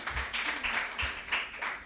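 An audience at a school quiz competition claps, a moderately quiet patter of hands with a loose, pulsing rhythm that swells and dips several times.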